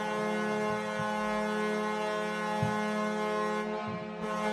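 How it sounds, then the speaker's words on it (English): An NHL goal horn blares loud and steady, a rich harmonic tone held for several seconds with faint crowd noise and thumps beneath it. "here's the sound of a goal horn going off in your ear."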